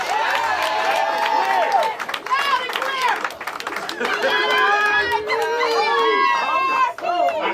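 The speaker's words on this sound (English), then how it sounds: "Everybody give yourselves a round of applause." A crowd claps and cheers at a mayoral victory speech in Dolton, with whoops and excited voices layered over steady, loud applause that swells and dips throughout.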